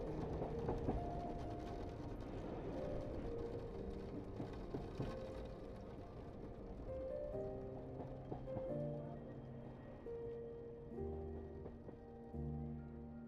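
A sleeper train slows on the railway tracks as it pulls into Catania Centrale station beside the sea in Sicily. A steady, continuous rumble carries throughout, with scattered tonal squeals and rattles layered over it and no talking.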